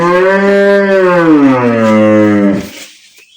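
A dairy cow lows once in a long, loud, drawn-out moo at a farm in Setabganj, falling in pitch before fading into quiet.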